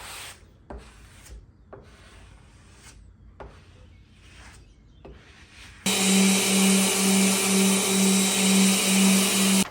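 Dresser wood is hand sanded in short, close rasping strokes, then a power tool kicks in with a loud, steady whine and a pulsing hum.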